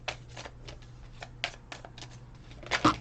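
Tarot or oracle message cards being shuffled in a run of quick papery riffling bursts, close and fairly soft, ending in a slightly louder flurry, with no voices.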